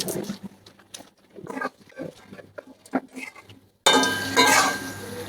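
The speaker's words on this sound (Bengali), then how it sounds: "আমি এখন ভেজে রাখা বড়িগুলো ঢেলে দিচ্ছি।" Fried lentil dumplings (bori) tumble into a pot of cooking vegetables with a sudden loud burst of clattering and sizzling, after a stretch of quiet scattered kitchen clinks.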